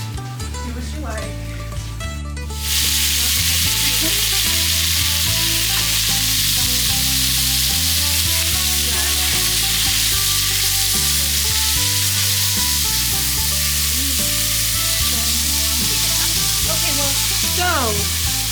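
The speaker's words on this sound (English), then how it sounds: "Now that the bacon is started to render," Bacon rendering in a pot as the base for New England clam chowder, sizzling loudly and continuously with a dense hiss, while a person talks over it.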